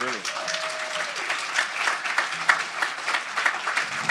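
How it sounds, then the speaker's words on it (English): An audience at a live Saturday night festival show applauds a performer with steady, fairly loud clapping throughout, while a voice talks over it. "Clap for Dion, everybody."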